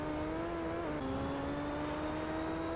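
A Corvette race car engine in Gran Turismo 3 drones at a steady high pitch, with a brief dip at a gear change before climbing again, continuous and fairly faint, without talk.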